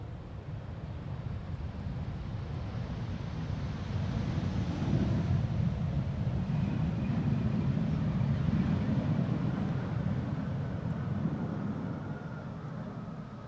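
A KLM airliner arriving at Schiphol on a flight from Basel gives off a faint, steady jet rumble that swells in the middle and then eases, blended with gusty wind on the microphone.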